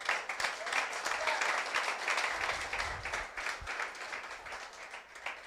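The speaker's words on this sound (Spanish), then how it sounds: "Aplauda si quiere aplaudir." Church congregation clapping during a sermon, a steady wash of applause heard from some distance, fairly soft and even, with faint low rumbles and voices mixed in.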